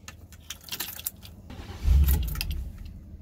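Ignition keys jangle and turn in the steering column of a 2004 Workhorse chassis with an ignition fault, a close metallic rattle followed by a low mechanical thump as it switches on.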